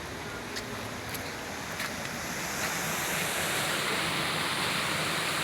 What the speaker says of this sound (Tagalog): Ragatan Falls. Ang ganda.